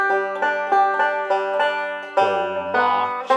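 Banjo picking the melody of When the Saints Go Marching In with forward rolls, bright plucked notes in a steady, even rhythm, played close and alone.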